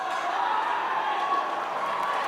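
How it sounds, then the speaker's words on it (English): Elite Warriors supporters cheer as a steady crowd roar at a cricket match on finals day, a continuous broad wash of voices and noise holding at even loudness with no single voice standing out. "We can hear them start their cheering now."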